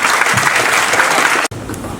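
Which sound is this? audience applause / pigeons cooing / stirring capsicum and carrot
audience applause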